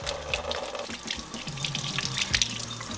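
Tap water runs into a sink while hands smeared with paint and dish soap are rinsed and scrubbed, a close, steady splashing flow with rubbing shifts in the stream and no talking.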